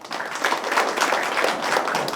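Audience applause at a policy forum hosted by a National Assembly member on preserving and using cultural heritage in western Hwaseong: steady, dense clapping from many hands for about two seconds, with no talk over it.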